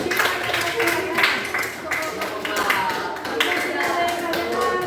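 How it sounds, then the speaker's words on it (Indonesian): A classroom of students applauding a group of classmates, giving uneven, fairly loud clapping with chatter and voices mixed through it. "kita beri tepuk tangan dulu untuk kelompok 5"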